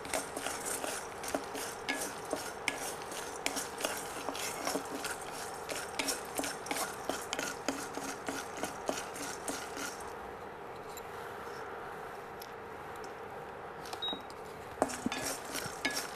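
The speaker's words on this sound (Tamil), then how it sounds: "இப்போ சுண்டைக்காயை வறுத்துக்கிட்டு இருக்கோம்." Turkey berries are dry-roasted in a pan with rapid, continuous scraping and rattling of a utensil against the pan, which pauses briefly before resuming with a few sharp clinks.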